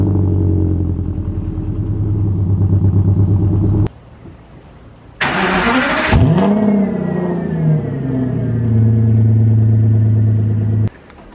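A car engine cold-starts with a sharp crank burst, then settles into a loud, steady high idle; a steady running engine precedes it and another brief stop occurs near the end.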